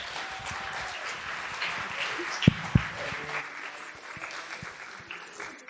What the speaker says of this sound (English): But another round of applause for all of our panelists.